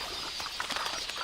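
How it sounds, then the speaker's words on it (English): A flock of quelea birds beating their wings, a faint, rapid flutter of many small wings that grows slightly busier toward the end. "The predator sizes up its prey, these quelea, which flock in the thousands."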